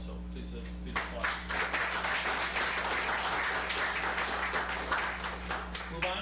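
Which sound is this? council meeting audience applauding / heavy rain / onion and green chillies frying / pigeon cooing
council meeting audience applauding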